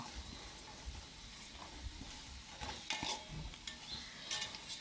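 Onions sautéing in hot oil for chicken biryani masala, a soft steady sizzle with occasional scrapes of a spoon against the pan, fairly quiet and close.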